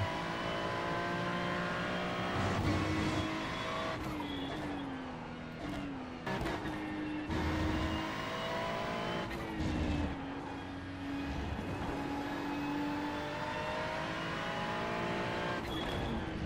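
Race cars in the iRacing video game roar around the track, with a continuous loud engine drone, shifting revs and gear changes, and cars passing close by.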